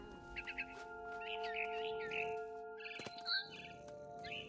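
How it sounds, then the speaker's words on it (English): Barn swallow chirps repeat in quick clusters over soft, sustained electronic tones and a few clicks, with no talking, in the video game What Remains of Edith Finch. "Then I heard chirping outside my window. It was a barn swallow going back to her nest."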